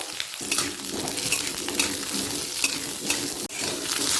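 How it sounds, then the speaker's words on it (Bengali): Potato pieces sizzle in hot mustard oil in a pan, a loud continuous crackling hiss. Occasional stirring scrapes come through, and no one speaks. "প্রথমে সবজিগুলোকে ভেজে সেদ্ধ করে নেব দিয়ে দিলাম আলু আলুটা হালকা লাল হওয়া পর্যন্ত অপেক্ষা করব"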